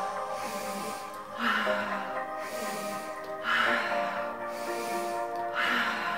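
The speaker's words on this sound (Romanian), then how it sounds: "Tot ce trebuie să faceți este să respirați." Slow, deep breathing during a conscious breathing exercise, with audible inhales and exhales swelling in long, even waves over a soft sustained background tone, close and steady with no talking.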